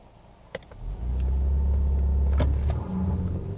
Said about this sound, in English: A little bit of wheel spin there.